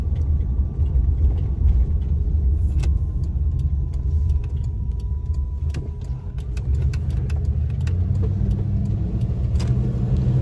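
A Sportsmobile E250 adventure van drives along, its engine a steady loud low rumble heard from inside the cab, with light rattles and jingling over the top and slight dips and rises as gears change.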